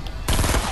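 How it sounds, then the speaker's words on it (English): Gunfire in Fortnite Battle Royale, a sudden loud burst of rapid shots breaking in after a quieter moment and rattling on close up. "Fire him. Fire him until he's dead."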